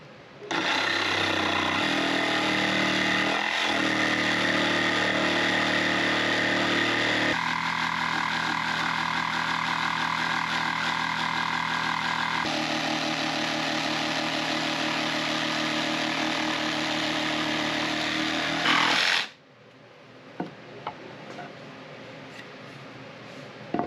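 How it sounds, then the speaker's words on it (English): A jigsaw cutting an ash guitar body for a Les Paul build, buzzing loudly and steadily for nearly twenty seconds with shifts in pitch as the cut progresses, then stopping abruptly and leaving faint handling clicks. "We're going to use a jigsaw. We're going to get this cut."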